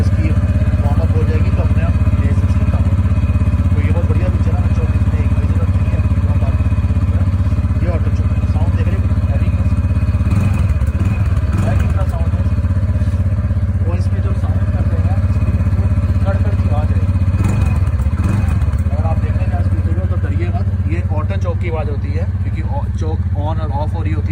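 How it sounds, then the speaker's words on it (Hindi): A TVS Ntorq scooter engine idles high on its auto choke just after starting, producing a steady, close mechanical drone under someone talking throughout. "ये स्कूटी ऑटो चोक है, अपने आप रेस इसकी ज़्यादा हो रही है"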